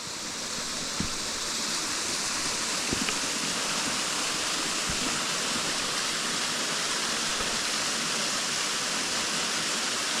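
Steady, full rush of the Routin Linn waterfall pouring into a shallow, stony stream. The constant roar stays close and loud with no voices.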